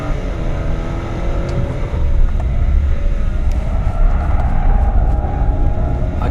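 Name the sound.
BMW 750i 7 Series engine driven hard uphill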